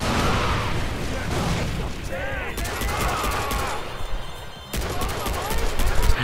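Far Cry 4 combat: dense video-game gunfire and booming grenade blasts, loud and continuous with rapid bursts, with players talking faintly underneath.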